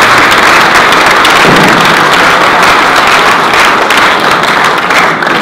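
Conference audience applauding loudly and continuously, a dense wash of many hands clapping throughout with no break.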